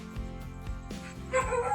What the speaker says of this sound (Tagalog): Ay, hamal na aso na naman ito.